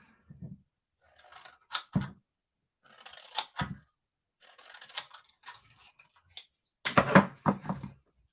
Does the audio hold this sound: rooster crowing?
no